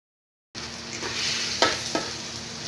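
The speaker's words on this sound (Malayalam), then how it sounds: "തക്കാളി ചേർത്ത് അതും കൂടെ നല്ലപോലെ വഴറ്റിയെടുക്കുക" Onion, garlic, ginger and tomato sautéing in a pan for a camel meat roast, giving a steady close sizzle with a couple of sharp stirring clatters, no talk.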